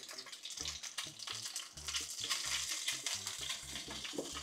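Salmon searing in a hot pan, a steady soft sizzle with faint stirring and utensil sounds, fairly quiet and close, without talk.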